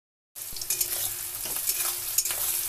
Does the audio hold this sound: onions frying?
yes